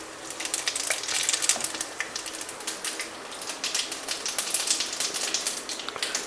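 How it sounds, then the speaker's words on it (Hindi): Cumin seeds, with a pinch of asafoetida, crackle in hot oil in a pan for a lobia curry: a busy, continuous crackle and sizzle of fine pops, steady and close, with no speech. "जीरा हमारा क्रैकर कर गया है"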